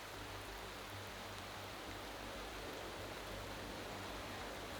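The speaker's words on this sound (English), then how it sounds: "Have a bit of rain." Steady, even rain from the Motorsport Manager racing game during the Belgium Grand Prix, a soft, continuous wash of hiss that holds without change throughout, with no voices.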